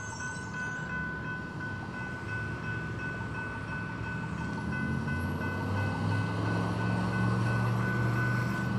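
A train approaches from the left, a low rumble that builds steadily with faint high tonal whine and hum, rising in loudness toward the end, no voices.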